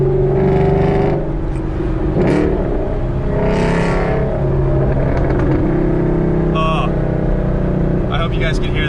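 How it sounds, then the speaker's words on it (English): Ford Mustang exhaust on a freeway, a loud, continuous engine drone echoing off roadside walls, with a voice talking over it inside the car. "You can hear the echo of the exhaust."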